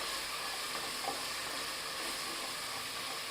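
Tomatoes sautéing in a pan while cooking prawn biryani, a steady even sizzle and hiss throughout with a faint stir scrape near the middle, no voices.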